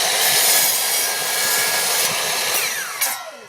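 A hand-held saw cuts through wood while building a small birdhouse, giving a loud, continuous rasping whine that runs for about three seconds before winding down and ending in scattered clatter.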